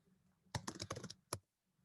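Quick burst of typing on a computer keyboard, about seven close, crisp key clicks in a rapid run followed by a single isolated keystroke, against a quiet room.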